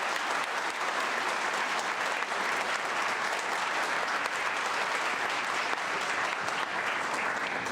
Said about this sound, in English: So please give those students a round of applause.